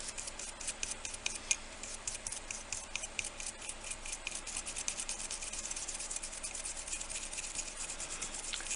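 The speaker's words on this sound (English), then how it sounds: "we'll take this stencil brush and kind of scrub" A stencil brush scrubs over resin fall-leaf pendants with metal flake, making a faint, rapid, dry scratching that repeats steadily and stays close and quiet throughout.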